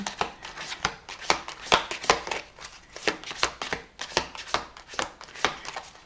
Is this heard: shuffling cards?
yes